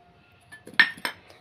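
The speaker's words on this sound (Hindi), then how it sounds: "आनी बरें करून मिक्स करपाचें" A spoon clinks and scrapes against a dish while salt and oil are stirred together, with a few sharp close metallic taps over a quiet background.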